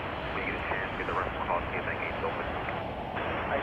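United Flight 1324 from Dallas Fort Worth passes near Chicago O'Hare with a loud, steady jet roar that fills the whole stretch, with faint voices underneath.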